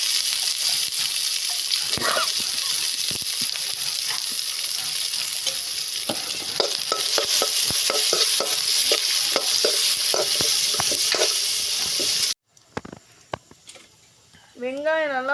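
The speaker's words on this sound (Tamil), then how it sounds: "வெங்காயம் நல்லா வதங்கிடுச்சு." Chopped small shallots sauté in a pan for a pumpkin stir-fry. A close, steady sizzle carries frequent scraping stirs, then drops out abruptly near the end into quieter, wavering sounds.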